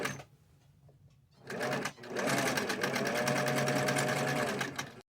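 A sewing machine zigzag stitching a cut fabric piece onto a shirt, a close, fast rhythmic chatter that starts with a short burst, pauses briefly, then runs steadily for several seconds.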